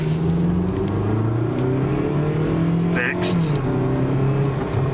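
A Jeep Compass with a flashing throttle light and no-go fault hums loud and close, its engine pitch rising and settling as it is shifted into drive, with someone talking over it.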